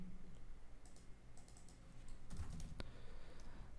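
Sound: typing on a computer keyboard

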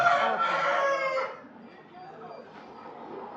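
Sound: fighting rooster crowing

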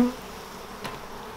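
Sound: buzzing bees on hive frames

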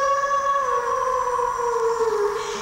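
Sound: werewolf howling at full moon

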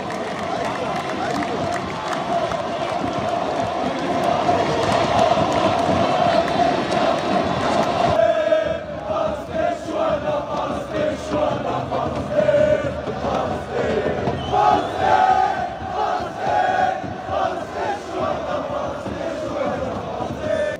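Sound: Algerian football fans chanting

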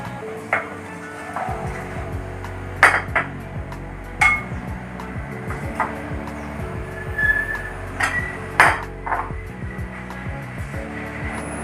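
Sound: stirring cake batter with flour in a bowl

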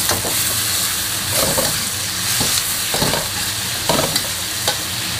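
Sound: pork stir-frying with light soy sauce in wok

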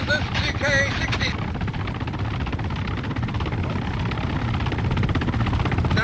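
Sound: helicopter from a video game

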